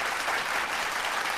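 A small group claps on a podcast set, a short, steady, moderately quiet burst of many hands with no voices over it.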